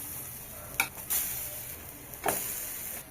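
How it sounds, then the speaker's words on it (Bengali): Masoor dal lentil fritters frying on a flat tawa griddle, giving a soft, steady sizzle with a few faint clicks and taps near the start and middle. "মুসুরির ডালের বড়া আবারও ভেজে নিয়েছি, তুলে নেব।"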